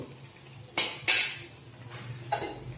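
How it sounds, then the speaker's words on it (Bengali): A metal lid is set onto a cooking pot of spinach curry, giving two quick bright clanks close together and then a third lighter clink a moment later, close and alone. "এখন আমি এটাকে ঢাকা দিয়ে দিচ্ছি"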